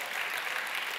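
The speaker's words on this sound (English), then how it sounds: "Y'all, clap your hand." Church congregation clapping hands during a Saturday morning Bible study, a short burst of dense, steady applause at a moderate distance.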